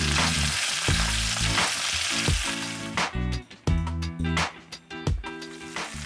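Aromatics sizzling in a pan over direct heat, cooked alongside seared chicken for smoky barbecue tamarind caramel chicken; a bright frying hiss sits beneath loud rhythmic music that pulses throughout and dominates the second half.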